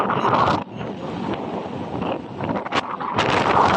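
Steady, loud wind roars and buffets close to the microphone throughout at the sea as rain approaches, with gusty swells and brief dips, no voices.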